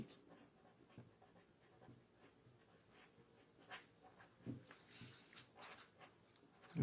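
A math formula being written by hand, likely pen on paper, during a lesson on division: faint, steady scratching strokes with soft taps, close and quiet, no talking.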